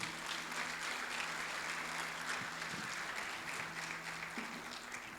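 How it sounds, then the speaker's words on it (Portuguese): A church congregation applauds during a worship service, a faint, distant and steady wash of clapping with a low electrical hum beneath it, no voices standing out. "Pode aplaudir o Senhor."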